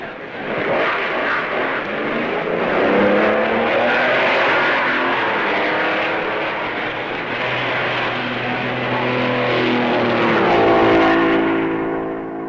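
A 1955 Maserati Formula 1 race car at the Belgian Grand Prix at Francorchamps, suffering plug trouble, pulls away from the pits: a loud, rough engine roar swells and revs continuously, then climbs in pitch as it accelerates away.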